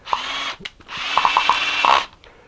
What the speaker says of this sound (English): they say don't use a power drill, but I do